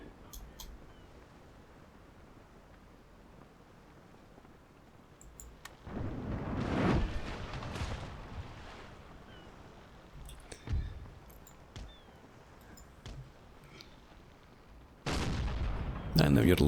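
Ship broadside cannon fire in Empire: Total War, two heavy bursts of booming shots ringing out over quiet ambient sea noise, with scattered lighter cracks between them.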